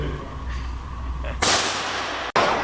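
Gunshots at a shooting range where rifles and handguns are practiced: two sharp, loud reports, one about midway and another near the end, over a steady background hum.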